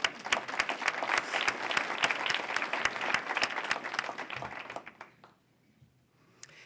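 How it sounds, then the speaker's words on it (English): An audience at a city State of the Cities address claps for several seconds, dense sharp applause that fades out abruptly, followed by near silence with a faint stray sound. "That deserves an applause"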